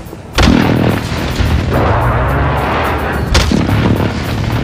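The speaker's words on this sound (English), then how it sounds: "Enemy precision airstrike, take cover." Heavy explosive booms from a precision airstrike in the video game Call of Duty Warzone, Verdansk Resurgence, arriving as two loud blasts with a sustained rumbling roar between them, no talking.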